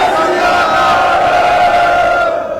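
A political stage gathering answers with a loud, sustained Sikh jaikara shout, many voices roaring together in one unbroken swell that fades slightly at the end.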